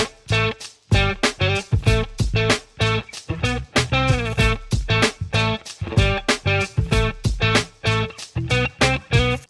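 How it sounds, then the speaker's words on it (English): Guitar riff played with quick grace notes, a choppy rhythmic pattern of short plucked notes and brief chord stabs with tiny slides into pitches, close and punchy, with no voice. "Now let's hear it with grace notes."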